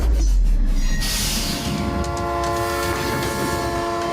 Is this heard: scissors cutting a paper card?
no